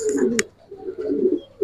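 A racer pigeon gives low, throaty coos in two rolling phrases, close and fairly loud, with a brief sharp rustle between them.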